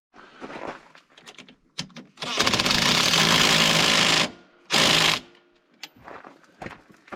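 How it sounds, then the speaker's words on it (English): A power tool tightens bolts and nuts on the tethering strap of a track kit fitted to a Polaris 570, a long loud mechanical buzz, then a shorter burst, with small clicks and handling noises between. "So we're going to tighten that on now."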